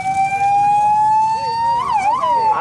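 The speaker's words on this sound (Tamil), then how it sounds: "ஆம்புலன்ஸ் போடு" An ambulance siren wails loud and close at a bull race event in Madhavaram, Chennai: a long rising tone, then a quick warbling wobble near the end.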